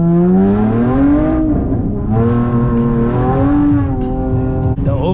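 A 400 hp Honda Accord CT2 driven hard on wet roads, its engine droning loudly and steadily with rising and falling pitch as it revs through gears, heard close from inside the car.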